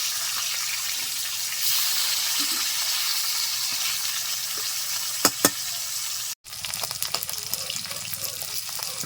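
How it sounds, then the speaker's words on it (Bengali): Katla fish frying in oil makes a steady close sizzle. A couple of sharp knocks come as the pieces are turned, and after a brief cut the frying returns with busier crackling pops. "দু মিনিট মতো একটা সাইড ভেজে নিয়েছি উল্টে নেব"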